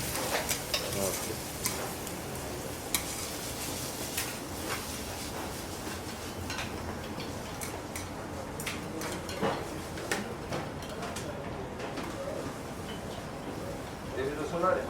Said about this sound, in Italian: Deve rosolare ma non deve prendere colore.